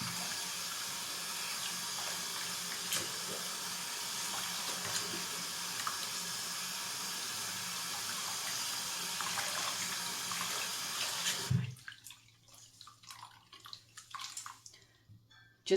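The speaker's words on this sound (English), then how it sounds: "Emptying the sink now and going to be rinsing it really well." Tap water runs steadily into a sink while a synthetic wig is rinsed, a continuous close splashing rush that cuts off abruptly near the end, leaving faint drips and draining trickles; no talking.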